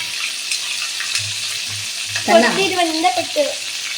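Steady hiss of chicken popcorn frying in hot oil, with crackles and a short scraping stir partway through, close and continuous.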